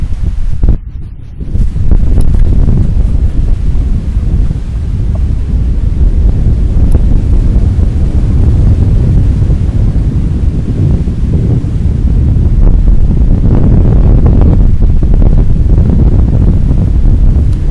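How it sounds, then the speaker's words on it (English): Strong wind buffets the microphone in a loud, continuous roar, with a brief dip near the start and no voices. "it's pretty windy, that's for sure"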